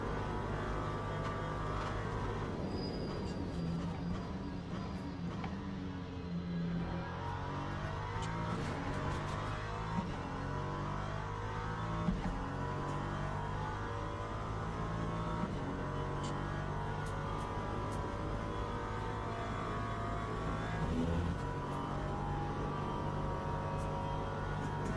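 Race cars in the Le Mans Ultimate sim racing game, with LMP2 prototypes coming through GT3 cars during a Le Mans endurance race, drone steadily at close range, engines rising and falling as they rev and pass, with occasional tire squeal and no talking.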